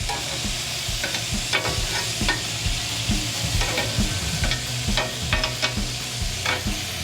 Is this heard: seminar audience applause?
no